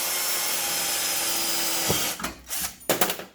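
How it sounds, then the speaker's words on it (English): A power drill whirs steadily and close, drilling holes for supports in a power wall build, then cuts out into a few short bursts and stops near the end. "So we're drilling the holes right now for these supports."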